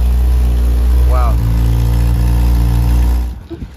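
A 5.3 turbo Volvo wagon idles with a deep, steady low rumble close by, while people talk over it and the engine noise cuts off near the end.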